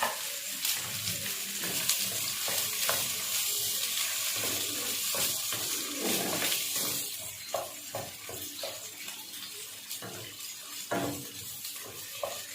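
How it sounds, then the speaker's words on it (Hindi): Onions frying in oil in a pan for a bitter gourd curry, a soft continuous hiss with intermittent spoon scrapes and clinks, fairly faint and close, no talking. "प्याज डाल दिए।"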